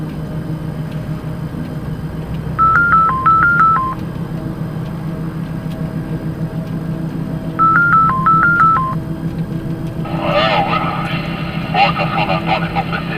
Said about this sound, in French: j'ai Vincent au téléphone